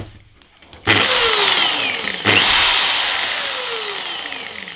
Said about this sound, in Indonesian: kita kembalikan ke bor